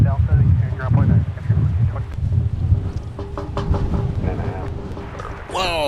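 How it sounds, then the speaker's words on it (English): Strong 27-knot gusts buffet a microphone across an airport field, a loud continuous rumbling wind roar with surging bursts, while a voice talks over it. "That's the 27-knot gusts that are prevailing across the field today."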